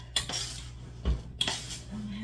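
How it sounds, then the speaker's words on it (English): A spoon stirs Russian tea powder mix inside a jar, giving a few short scraping clinks against the glass in a quiet room, with no talk. "Let me finish stirring this one."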